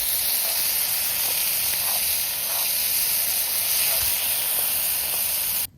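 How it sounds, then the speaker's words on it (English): Rice frying with Spam in a pan at a campsite, a steady loud sizzling hiss that continues evenly, then cuts off abruptly at the end. "here's the secret, is I'm gonna fry it"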